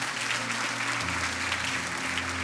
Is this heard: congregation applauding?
yes